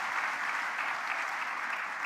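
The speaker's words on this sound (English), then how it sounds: "A big round of applause." An audience applauds its panelists at a youth dialogue event with President Kagame, producing dense, steady clapping that holds evenly throughout.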